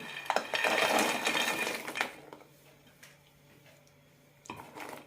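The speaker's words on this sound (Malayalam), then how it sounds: "ഇനി ഇതിലേക്ക് വറുത്ത് വെച്ചത് ഇടാം ലോ ഫ്ലെയിമിലാക്കി ഇട്ട് കൊടുക്കാം" Roasted wheat-flour pieces tipped into hot jaggery syrup in a pan on low flame make a loud, dense clatter for about two seconds, then settle into a faint background hum with a few soft knocks.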